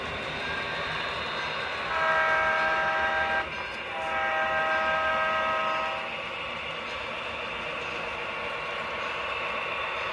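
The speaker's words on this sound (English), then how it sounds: "we have another train coming into Somerville." A model train hums and rattles along its layout track with a steady mechanical whir, and a horn sounds twice in the middle.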